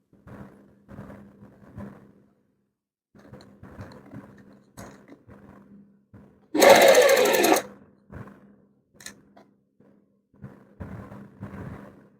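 A sewing machine stitches a V neckline along buckram in one loud, fast, rattling run of under a second, surrounded by quieter, intermittent handling noises before and after.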